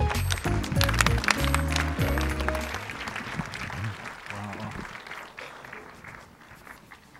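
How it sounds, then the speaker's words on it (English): An audience gives a warm round of applause at a Philippine design address, starting under lingering music and then thinning into softer, scattered clapping. "A warm round of applause."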